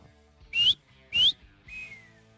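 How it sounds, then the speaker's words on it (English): Three short whistles from a person, proposed as a podcast's official whistle: two bright rising toots followed by a softer, longer falling one, each separated by brief quiet. "we need an official whistle"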